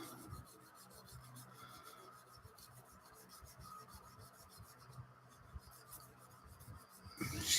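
Sandpaper working over the painted surface of an Airfix 1/24 scale Spitfire Mk IV plastic model kit, a soft continuous rasping and rubbing close by, steady with small pulses and no speech.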